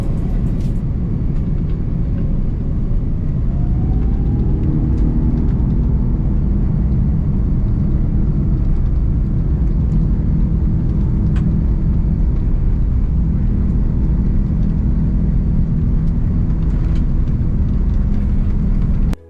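A steady, loud low roar fills a Cathay Pacific airliner cabin during departure, with a continuous rumbling drone, one brief rising tone near the start, and no talking.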